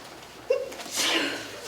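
A single sharp sneeze bursts out, followed by a breathy trailing exhale, fairly close in a quiet room during a village board meeting.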